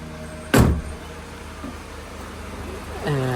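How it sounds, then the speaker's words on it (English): A Mini Cooper R56 engine hums at a steady low idle after a single loud thump near the start, with a faint voice briefly heard near the end. "engine is idling and running just fine"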